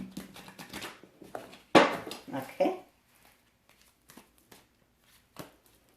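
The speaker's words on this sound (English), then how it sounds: "I want to do one more shuffle." A deck of tarot cards is shuffled by hand in a soft, riffling burst early on, followed by a few quieter card taps and a brief spoken word, with the rest fairly quiet.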